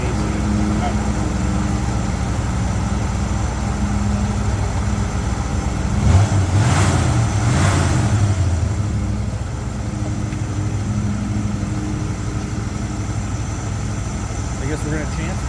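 A 1977 Pontiac Bonneville engine idles steadily, a low continuous rumble that briefly swells louder in the middle, with voices talking over it.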